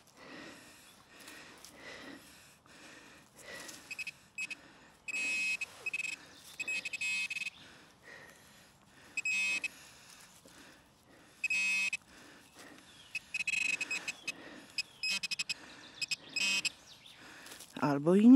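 A metal detector sweeping a forest floor gives repeated bursts of electronic tone, each lasting about a second with gaps between them, over faint rustling and soft breathing. A sharp rising squeal comes at the very end.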